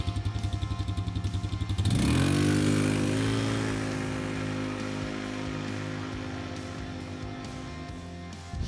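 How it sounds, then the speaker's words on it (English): An ATV quad bike engine drives on asphalt, idling and rumbling steadily, then revving up sharply at about two seconds into a loud, sustained drone that slowly eases off while the quad keeps moving, with no talk over it. "By the way, the quad goes well on asphalt."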